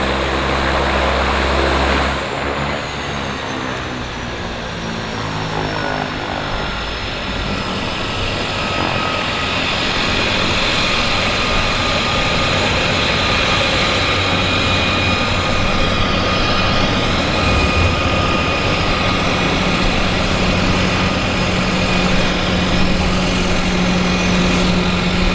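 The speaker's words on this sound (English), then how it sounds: "we've got a aircraft on approach, so obviously that's going to land" Fixed-wing plane on approach to land at Vancouver's downtown harbour airport, a loud, steady engine roar that holds for the full stretch, drifting slightly in pitch as it passes, with no voices.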